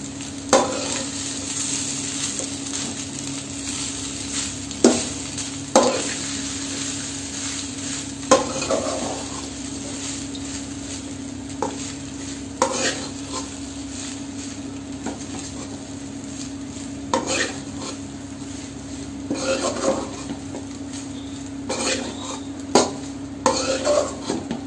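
Capsicum egg rice is stirred in a frying pan, with irregular scraping strokes of the spoon rising over a steady, close sizzle throughout.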